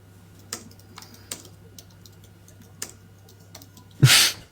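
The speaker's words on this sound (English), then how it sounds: "I hear the keyboard." A few sparse, isolated keystrokes tap on a computer keyboard in a quiet room, spaced out by pauses, then a short louder scuffing burst near the end.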